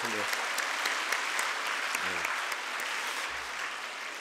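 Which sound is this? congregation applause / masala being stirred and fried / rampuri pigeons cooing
congregation applause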